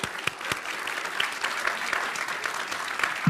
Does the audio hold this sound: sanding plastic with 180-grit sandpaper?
no